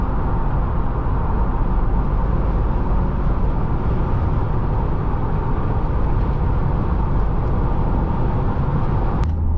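A Ford Crown Victoria P71 Police Interceptor with a naturally aspirated V8 drones steadily under load on the road, its low engine rumble mixed with broad road and wind noise for the whole stretch.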